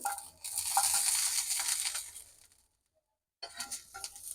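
Garlic cloves dry-roasting in a pan give a dense, crackling hiss that breaks off into a brief silence and then resumes, moderately close, with no speech.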